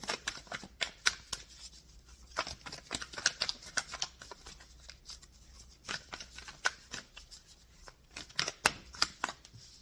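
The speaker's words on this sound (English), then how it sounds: "I think it's much more organic when you shuffle and waiting for the cards to flip out." Tarot cards riffled and shuffled in quick, papery bursts with short pauses between, close and fairly quiet, no voices.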